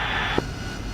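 Jet engine of a taxiing military aircraft in the DCS flight simulator, a continuous loud whining roar with a brief click partway through, no speech.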